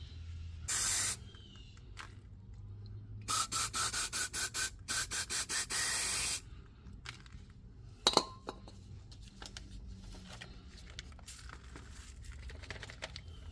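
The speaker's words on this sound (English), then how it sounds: "we're gonna use some brake clean, and I'm gonna use my skinny wire wheel in here." Brake cleaner sprays in short hissing bursts, one brief then a long stuttering series, onto a Dodge Grand Caravan rear brake part, followed by quiet scraping and a sharp metallic clink from a skinny wire wheel.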